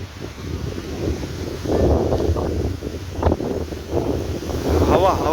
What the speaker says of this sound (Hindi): आपको सुनाई दे रहा होगा कि हवा कैसे चल रहा है यहाँ पर